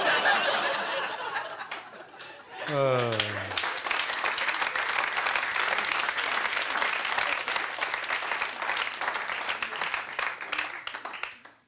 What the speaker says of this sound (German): Klatscht ruhig länger, ich habe nicht so viel Material.